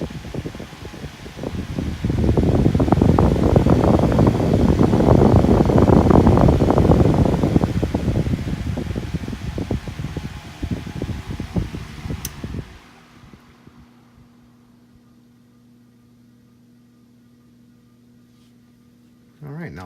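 A Canadian Seabreeze two-blade electric fan on an adjustable stand runs with a loud whooshing rush of air for about twelve seconds, then drops to a low steady hum with faint rhythmic ticking.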